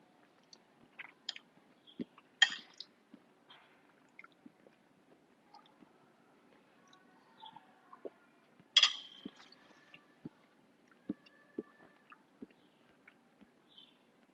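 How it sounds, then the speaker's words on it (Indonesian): Mouth-close chewing and biting on food during a livestream, soft squishy and crunchy bites scattered irregularly, a few louder sharper crunches standing out against a quiet background, no talking. "Tapi ASMR aku ngunyah kedengeran nggak?"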